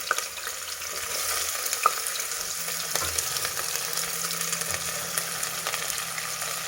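Whole spices and onion frying in hot oil for egg biryani, giving a steady, close sizzle with occasional stirring clinks and scrapes.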